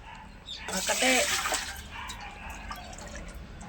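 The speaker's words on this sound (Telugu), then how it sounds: "ఇంకా చూడండి పోస్తాను నీళ్ళు." Water is poured into a vessel while making rice flour vadiyalu, a short close trickling splash rising and fading over about a second, with a quiet room afterward.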